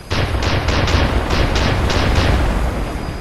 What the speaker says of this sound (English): You launch flares with Q.